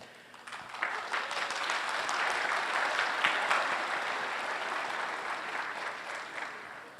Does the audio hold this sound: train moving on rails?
no